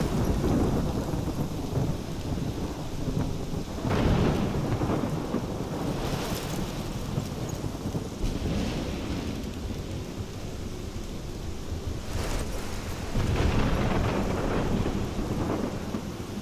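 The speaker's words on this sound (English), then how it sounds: "This is my storm. I caused this." Thunderstorm in a video game: steady heavy rain with rumbling thunder rolls that swell several times throughout, loud and continuous with no voices.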